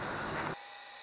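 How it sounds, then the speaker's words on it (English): Heavy-duty angle grinder deburring steel stem pieces for a tiny car's control arms, a loud dense grinding roar that cuts off abruptly halfway, leaving quiet workshop hum. "I also have to clean up the burrs on these stem pieces here using the mega grinder"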